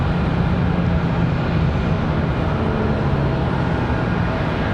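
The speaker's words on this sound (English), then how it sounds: "Oh, just an A320." Airbus A320 jet airliner departing Charlotte Douglas International Airport, a loud, steady broadband engine roar that holds constant throughout without pause.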